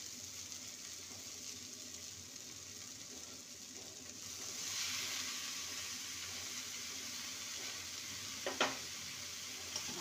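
Bottle gourd, masoor dal and spices frying in a pan make a soft, steady sizzle that grows slightly louder partway through, with one brief clatter of stirring near the end and no voices.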